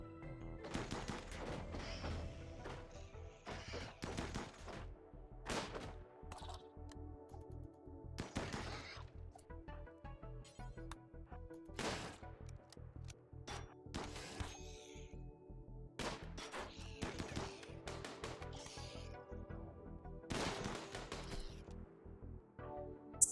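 Gunfire from the colony game RimWorld in a tribal start: repeated bursts and single shots crack out at irregular intervals over a steady low background, fairly even in loudness throughout.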